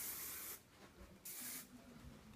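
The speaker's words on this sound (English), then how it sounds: "You want to give a little bit more spray in the back just to make sure her hair holds." Aerosol hairspray hisses in two bursts onto a girl's competition hairstyle, aimed at the back of the head, close and steady with brief pauses between sprays.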